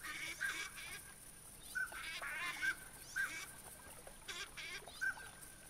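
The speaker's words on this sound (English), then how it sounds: "Those gadwalls are so annoying." Gadwall ducks quack repeatedly in theHunter hunting game, a steady series of nasal honking calls at a moderate distance over a faint grassy ambience, with no talking.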